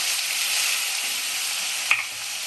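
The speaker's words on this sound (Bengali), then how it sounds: "পুঁই শাকটা আমি আগে খুব ভালো করে ভেজে নেব" Malabar spinach (pui shak) fries in a pan with turmeric. It gives an even, bright sizzle, and a single sharp utensil clink sounds near the end.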